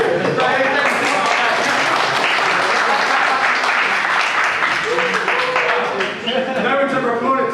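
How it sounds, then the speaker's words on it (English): A workshop audience at a Unity game development session breaks into loud, dense applause that stays steady for several seconds, with voices faintly mixed in among the clapping. "No one's ever applauded to that."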